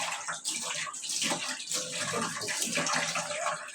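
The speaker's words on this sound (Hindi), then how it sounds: "अब ये सब ट्रे साफ करने के लिए पानी डालना जल्दी रहेगी" Water poured over a tea tray to rinse it clean, a steady close splashing rush that runs without a break, with no voices over it.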